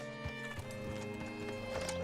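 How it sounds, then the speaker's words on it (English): Horse hooves clip-clop steadily on hard ground in Red Dead Redemption 2, a regular close rhythm over a low ambient game soundscape. "Hitch your horse up here."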